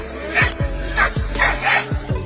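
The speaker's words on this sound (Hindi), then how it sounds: "अब यार मिलो इन कुत्तों से जो इस घोड़े की पूंछ के पीछे इस कदर पड़ गए हैं" Several dogs chasing a horse's tail, barking in quick repeated yips and bow-wows close by, with a few short gaps between bursts.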